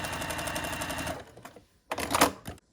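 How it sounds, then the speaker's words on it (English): A sewing machine stitches a quilt block from point to point, running in a steady, dense mechanical whir for about a second. After a brief near-silent pause comes a second short, louder burst of stitching, close up with no voices. "And then you're going to sew from point to point."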